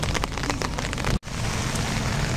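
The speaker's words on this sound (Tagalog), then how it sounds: "Oh, mas lumalakas na ang ulan." Heavy rain pours down steadily outdoors at a fishing spot in Bulacan, a dense, loud hiss of drops with one brief dropout midway.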